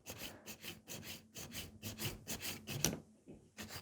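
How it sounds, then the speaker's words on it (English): A nail file scrapes back and forth along the side walls of sculpted stiletto fiber gel nails in steady, close rasping strokes that briefly pause near the end, with no talk. "now I'm just still filing the side walls"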